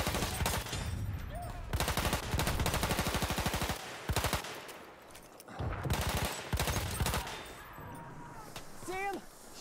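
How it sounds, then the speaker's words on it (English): Rapid automatic machine gun bursts from a Battlefield 1 battle, loud and close, repeating in several sustained strings with short pauses, backed by scattered battlefield noise and a brief whistling sound near the end. "Machine gun! Watch it, boys!"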